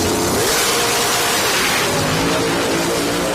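A nitrous drag racing car creeps into stage at the starting line after its burnout, its engine giving a loud, steady, close rumble that holds throughout with no talking.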